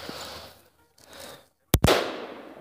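An AR-22 rifle fires in a quiet outdoor setting: first one sharp, loud crack, then a second that follows almost at once and rings out briefly.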